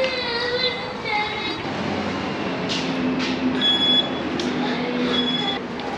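Steady rumble of a Sydney train in motion with a whining, tonal hum rising and falling over it; no clear speech.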